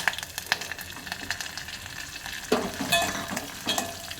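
Garlic, dried red chillies, cumin and curry leaves fry in about two spoons of oil as the tempering for Rayalaseema-style rasam, giving a steady close sizzle with occasional scraping stirs and pops.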